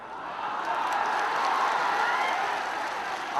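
A large crowd at a political rally addressed by a chief minister in Madhubani breaks into thunderous applause, a dense roar of clapping swelling and holding steady, with faint crowd noise mixed in.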